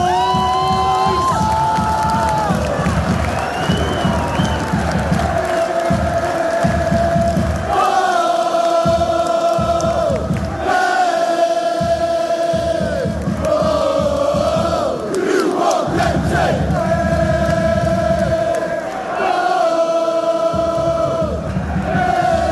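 Loud stadium crowd of Newport County fans cheering and chanting during a match against Manchester United, dense and sustained with rhythmic chant swells and shouts rising throughout.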